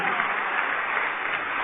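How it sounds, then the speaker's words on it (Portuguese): Congregation applauding in a church service, a dense, even roar of many hands clapping at once, heard briefly and without a break. "Vamos aplaudir mais."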